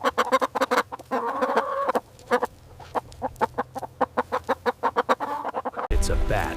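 A chicken clucks in a rapid series of short, loud, close calls, with brief pauses between bursts, followed by a short blur of other noise at the end.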